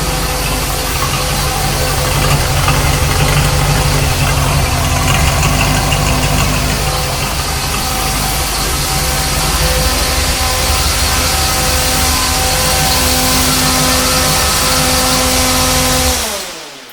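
A 1973 Corvette Stingray engine idles loudly and steadily for a long stretch, a constant rumbling drone that cuts off abruptly at the end.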